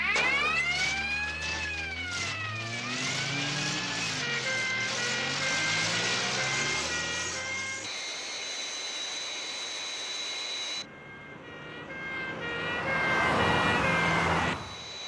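Fireflash aircraft on approach to runway 29 with crash tender sirens wailing: rising and falling sirens over a jet whine, followed by a high steady turbine tone and a loud roaring rush near the end.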